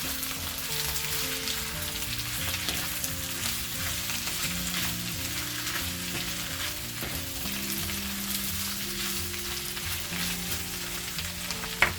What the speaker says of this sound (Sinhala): ඒ චිකන් ටික දාලා දැන් මේක අපි හොඳට කලවම් කරගමු